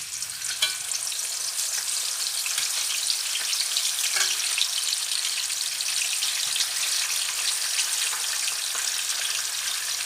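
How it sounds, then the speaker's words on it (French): Horse mackerel frying in hot oil, a loud, dense, crackling hiss with fine popping that holds steady for the whole stretch, close by and with no voices over it. "On va frire le poisson."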